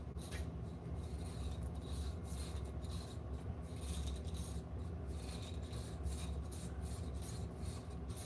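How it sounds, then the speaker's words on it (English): Coating being scraped off metal before welding, a steady close rasping and rubbing with repeated strokes, fairly quiet, with no talk. "I'm just scraping off the coating that's on here so the weld doesn't get infected"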